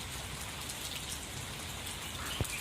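Steady rain pattering onto hanging potted plants outdoors ahead of an approaching typhoon, a dense continuous hiss of drops throughout with one brief louder knock near the end.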